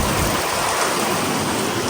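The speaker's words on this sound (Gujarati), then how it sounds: "ધીમો ધીમો વરસાદ છે પણ એની જગ્યાએ ફૂલે ફૂલ ચાલુ થઈ ગયો છે" Heavy rain pours down steadily in a dense, even hiss that fills the whole moment, loud and close with no break, and no voices over it.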